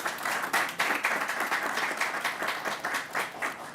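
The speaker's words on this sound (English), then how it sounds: "So let's give them a round of applause." A crowd at a New York COVID-19 press briefing breaks into a steady round of clapping, with dense, even applause lasting several seconds without pause.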